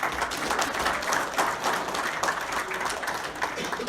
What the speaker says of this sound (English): Keep clapping. It'll help her relax.